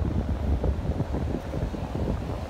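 Sea waves and gusting wind on a beach at Praia Grande, Brazil, a continuous low rumbling roar with rolling surges and microphone buffeting, no voices.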